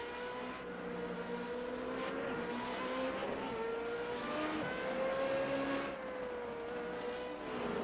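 Formula Renault 3.5 race cars at the Nurburgring, their engines droning at a distance along the main straight with pitch sweeping as they pass, plus faint repeated ticking in the background.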